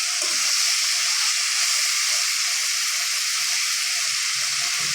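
Flat beans and onion leaves fry in a pan, a steady, dense sizzle and hiss that holds evenly throughout with no voices.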